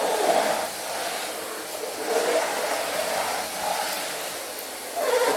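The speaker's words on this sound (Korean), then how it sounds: "청소기가 작동했다." A vacuum cleaner runs in a plush, spotless interior in a visual novel, giving a steady airy whoosh that swells and eases in slow waves, fairly loud and alone with no talking.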